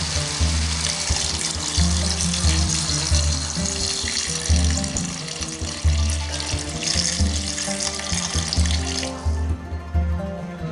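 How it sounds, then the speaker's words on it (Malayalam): Water gushes steadily from a tap or jug into a cooking pot of chicken for an Arabian maklouba, a continuous close rushing and splashing that ends with a lighter trickle. "ഇതിലേക്ക് വെള്ളം ഒഴിച്ചു കൊടുക്കണം."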